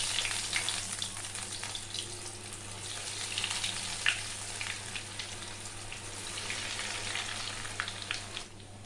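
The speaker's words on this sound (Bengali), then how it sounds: "প্যানের মধ্যে আমি তেল গরম করে নিয়েছি। এবার আমি এই রোলগুলো ছেড়ে দেব।" Paneer bread rolls sizzle in hot oil in a pan over medium-low gas, a steady crackling fry with scattered sharp pops running throughout, close and fairly quiet.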